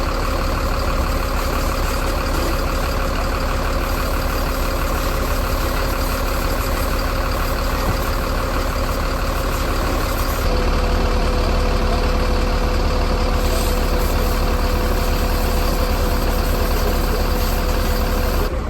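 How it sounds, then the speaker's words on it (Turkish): Several motorcycle engines idle together in a steady, unbroken low rumble that stays close and loud throughout, with no voices over it. "Motosikletler..."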